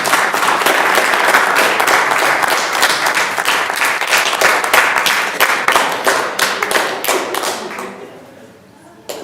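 Loud, sharp clapping fills a school board of education meeting room, with individual claps distinct in a brisk, uneven rhythm that thins out and fades near the end.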